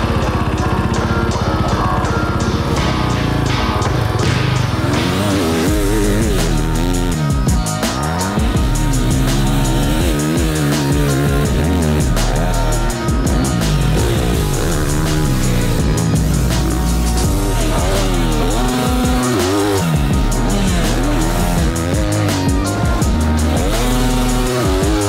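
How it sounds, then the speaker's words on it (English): Motocross motorcycles riding a small, jumpy track, with a loud, continuous engine snarl that rises and falls as the throttle opens and closes, close up with no talk. "ride a little bit of a jumpy, smaller motocross track and get some seat time"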